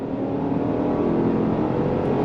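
2025 Genesis GV70 3.5T sport SUV accelerating under throttle from inside the cabin: a moderate, continuous engine roar with broad rumble, steady throughout, with no voices.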